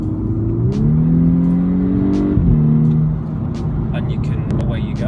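A 2010 Volkswagen Golf MK6 R with a DSG gearbox revs loudly up close, its engine pitch climbing and then dropping sharply as it downshifts on the paddles before settling into a lower drone.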